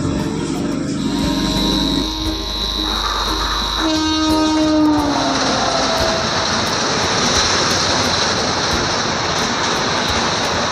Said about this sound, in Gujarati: તમે સાંભળી શકો છો કે જે હમિંગનો વોઇસ આવી રહ્યો છે તે મારા માઇક્રોફોનમાં આવતો હતો